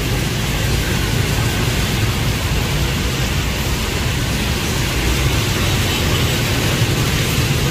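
Steady rain pours on a street in Saigon, a dense continuous hiss that stays even and fairly loud throughout with no voices.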